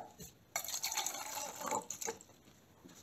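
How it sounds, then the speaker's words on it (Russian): About 100 ml of water poured into an empty jar, a faint trickle that starts abruptly, then runs as a close, splashy, uneven pour with a few clinks before tapering off. "В нее я налью воды 100 мл."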